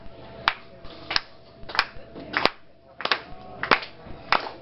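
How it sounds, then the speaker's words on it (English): A pub audience claps a steady rhythm along with a sing-along folk song, sharp hand claps landing in regular pairs and groups, fairly close and distinct against a quiet background. "I would like to get Mitch to start a clapping rhythm for everyone"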